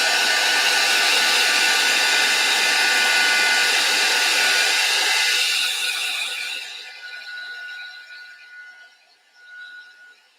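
Hair dryer drying a napkin: a loud, steady whooshing blow at close range that fades and changes tone as it is shut off or moved away, ending in a quieter hum and brief gust.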